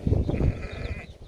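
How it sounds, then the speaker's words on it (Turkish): Sheep bleating in a flock near livestock pens on a farm guarded by Kangal dogs, a loud, close burst of overlapping bleats that fades into quieter calls, with no talk. "koyun sürüleri burada, ağıllar burada."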